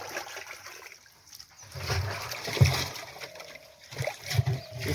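Water splashing as parshe fish fry are poured from a container into a pond, uneven bursts of sloshing and splatter rising and falling over a few seconds, close by with faint voices in the background.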